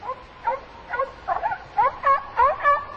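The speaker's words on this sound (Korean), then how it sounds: "이따금 개가 짖었으나" A dog barking at night in a quiet field, a rapid series of about eight short, fairly close yelping barks in a steady rhythm.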